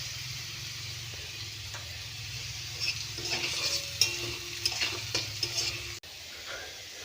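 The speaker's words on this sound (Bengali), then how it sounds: "আমি রান্না করছি, দেখতে পাচ্ছ সয়াবিনের তরকারি" Soybean curry sizzles steadily as it fries in a pan, with scraping stirs and a few clinks of the spoon against the metal, close and continuous with no talking.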